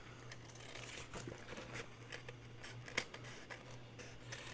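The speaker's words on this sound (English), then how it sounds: "we're just going to use our scissors, and I'm going to trim around the edges" Scissors trim the edges of a paper napkin with quick, soft snipping and crinkling, a series of faint close cuts and rustles.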